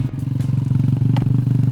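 Motorcycle engine putters at close range, a loud, rapid, even pulsing throb with faint clatter, carrying a rider and passenger along a road.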